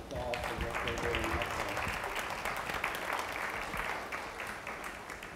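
Audience at a state museum lunch-and-learn event applauds contractors and state employees seated in a row; steady, fairly faint clapping with a murmur of voices beneath it.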